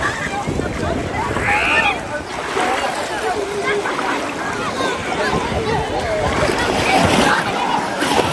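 People swimming and splashing in cold lake water at Kinbrook Island, Canada, with continuous splashing and water noise across the scene while voices talk over it.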